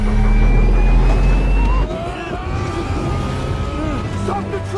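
A truck drives loudly close by, a heavy low engine rumble that holds steady and then eases slightly partway through, with shouting voices over it.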